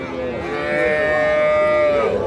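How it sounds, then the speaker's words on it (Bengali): A crossbred heifer calf at a cattle market gives one long, close, loud moo that rises and holds for a couple of seconds, with faint crowd noise behind it. "এইটা একটা বকনা বাছুর, ক্রস জাতের।"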